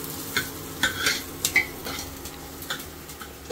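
Chopped onions sizzling and frying in oil in a pan, with a spoon scraping and clinking as they are stirred, close and continuous with no talk.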